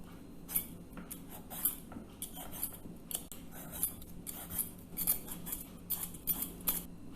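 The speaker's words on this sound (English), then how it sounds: "Wash it thoroughly and peel off the skin." A raw papaya is peeled with a blade, heard as a string of close, soft scraping strokes with crisp papery edges, repeating in uneven rhythm at a gentle level, with no talk.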